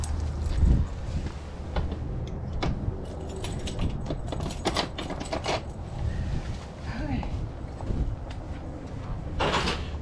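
A small bunch of keys jangles and rattles in short, close bursts as it is handed over while unpacking a delivered eBay store's stock, with people talking throughout over a steady room background.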